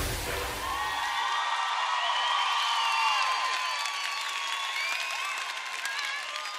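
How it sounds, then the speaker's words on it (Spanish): A crowd at a carnival drag queen gala applauds, cheers and whoops loudly, with dense clapping and shrill shouts layered over a brief low musical tail at the start, sustained throughout. "¡Que se oiga ese aplauso,"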